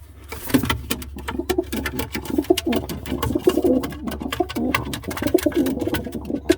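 Breeding pigeon hens cooing in a loft, repeated low throaty coos in close rhythmic bursts throughout, with rustling and light tapping underneath.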